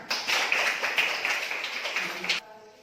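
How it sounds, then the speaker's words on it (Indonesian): Children clapping hands together in a classroom, a dense continuous patter of claps lasting over two seconds before stopping abruptly, fairly near. "Iya, tepuk tangan."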